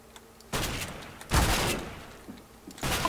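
Mag-7 shotgun fire in CS:GO on the Inferno map: two or three loud, sharp booming blasts with quick decays, punctuated by quieter game noise between them.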